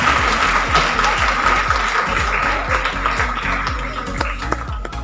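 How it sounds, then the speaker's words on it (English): An audience claps for students at the KSS Meritorious Award Ceremony 2022, a moderate, slightly uneven round of applause over a steady hum, with a few distinct sharp claps standing out. "Audience, please appreciate the students with your thunder of claps."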